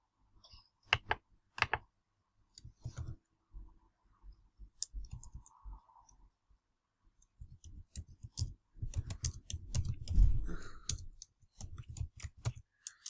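Typing on a computer keyboard, with scattered single key clicks early that build into a denser burst of rapid tapping, close and fairly quiet with no talk.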